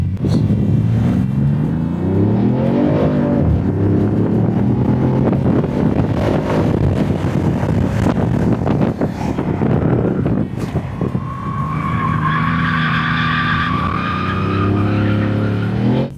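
New Dodge Charger with a twin-turbo inline-six petrol engine driving, a loud continuous engine drone rising and falling in pitch with acceleration and shifts, close and dominant throughout.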